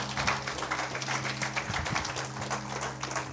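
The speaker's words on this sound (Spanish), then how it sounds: "Dale un aplauso a Jesús, Él te ama." A church congregation applauding during a service, dense, continuous clapping from many hands filling the room with a steady roar, a low hum underneath and no clear speech.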